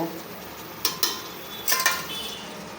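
Chicken pieces with whole garlic cloves being stirred and sautéed in a pot: a faint background sizzle broken by a few sharp clinks and scrapes of a utensil against metal, close by.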